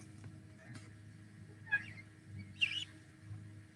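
Guinea fowl give a couple of harsh, scratchy calls at moderate distance, standing out briefly over a low background hum near a chicken coop.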